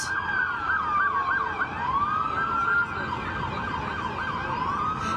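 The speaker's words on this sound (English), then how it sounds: "here come the patrol cars." Police patrol cars pass during street protests against immigration raids in Los Angeles, their sirens wailing and yelping loudly and continuously over traffic noise.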